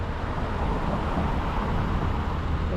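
Busy street traffic roars outside the New Jersey State House in Trenton, a dense, steady rumble of passing vehicles close by with no break.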